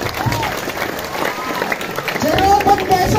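A crowd claps at a lively comedy performance at a Balinese temple, with moderately loud applause mixed with voices and other background sounds.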